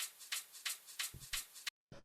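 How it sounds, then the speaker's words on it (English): A short vinyl shaker percussion loop sampled from a drum break: crisp, hissy shaker strokes in a steady, even pattern, with a couple of soft low thumps near the end and a brief gap of silence. "So yeah, so then the other thing with the percussion here is this vinyl shaker,"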